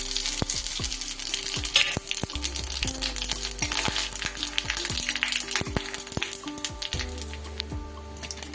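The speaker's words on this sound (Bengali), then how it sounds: "এইবার বাকি তেলটার মধ্যে আমি দিয়ে দেব ফোড়ন। একটা তেজপাতা, দুটো শুকনো লঙ্কা, একটু জিরে আর একটু রাঁধুনি।" Bay leaf, dried red chilies, cumin and radhuni spices temper in hot oil, giving a bright continuous sizzle with rapid popping crackles, close and steady before easing slightly at the end; no speech.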